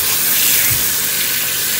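Cold tap water runs steadily over food being rinsed in a home kitchen, a continuous close splashing hiss with no talk.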